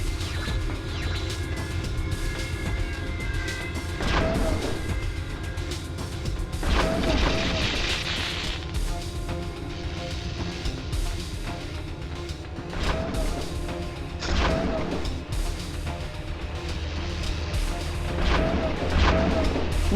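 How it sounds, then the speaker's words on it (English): Laser turrets in the PS1 game Spider-Man 2 fire repeated loud zapping blasts at irregular intervals over a steady droning game soundtrack, with booming impacts and no talk. "If I play it right, I can get those lasers to fire and destroy each other."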